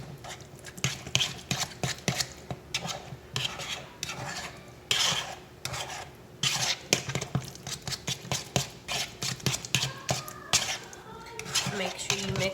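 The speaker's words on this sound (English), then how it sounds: "Make sure you mix it well. And the fork really breaks the yolks" A fork scrapes and clicks against a bowl in a fast, steady rhythm, mixing egg yolks with mayo and mustard up close.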